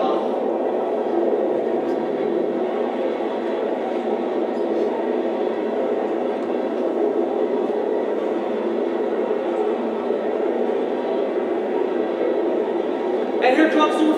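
A 38-car local freight train out of Rocky Mount passes close by, a constant heavy roar of rolling cars that holds steady throughout, with a sharper clatter at the end.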